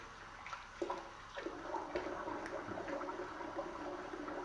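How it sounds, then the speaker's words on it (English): Cold tap water runs steadily into a sink during a wet shave rinse, a faint continuous splashing close by with no talk. "Just rinse again with cold water."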